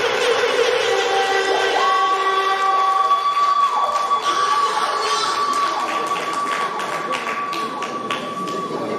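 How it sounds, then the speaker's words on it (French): Audience at a 50th-anniversary ceremony applauding and cheering after a speech, a loud burst of clapping and crowd noise that gradually thins out, with a few sustained tones and scattered voices mixed in. "Applaudissez, s'il vous plaît."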